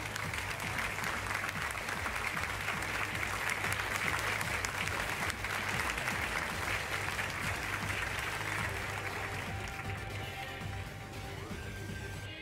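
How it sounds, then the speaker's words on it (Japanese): Sustained applause from a large audience, steady clapping that fades slightly toward the end. "改めて塩ロジカ選手に大きな拍手を送りください。"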